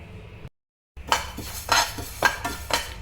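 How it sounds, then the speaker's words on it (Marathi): A spoon scrapes and clinks against a kadhai while sesame seeds roast. Several distinct stirring strokes follow a brief gap of silence, close and fairly loud, with no talking. "आता मी कढई ठेवलेली आणि त्यामध्ये पहिल्यांदा मी तीळ भाजायला घेते"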